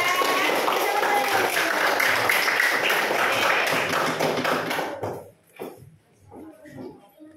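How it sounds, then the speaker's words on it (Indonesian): Students in a classroom give group 2 a round of dense, fast clapping that fills the room and then stops abruptly, followed by a few scattered thumps and quiet shuffling. "Ayo kasih tepuk tangan untuk kelompok 2."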